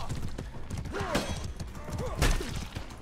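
Hoofbeats of a galloping horse in the medieval combat game Mordhau clatter in a quick rhythm amid thuds and clashing impacts, with a brief whinny.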